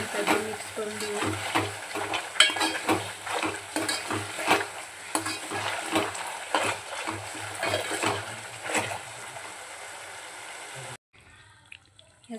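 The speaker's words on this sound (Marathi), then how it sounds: "याचमध्ये आपण बॉईल केलेले अंडे आपण टाकून छानपैकी मिक्स करून घेऊया" Boiled eggs are stirred into egg dum biryani in a pot, with repeated rhythmic scraping and squelching strokes close by that continue steadily and then stop near the end.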